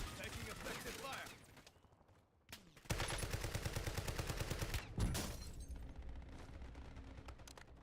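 Gunfire in Call of Duty Warzone, a steady rapid automatic rattle of close shots after a brief lull, with a voice speaking over the start.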